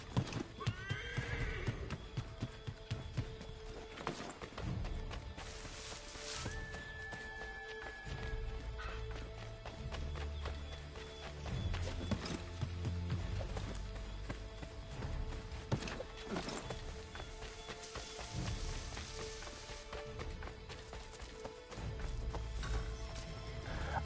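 Horse hooves clip-clopping at a run with a clear neigh, in-game sound from Assassin's Creed 3, steady and prominent over a dense layer of game music and ambience without talk.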